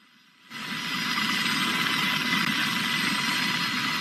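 Steady, loud Black Hawk helicopter rotor and engine noise starts abruptly and drones on without a break, with a broad whooshing hiss over a low throb, during a snowstorm rescue.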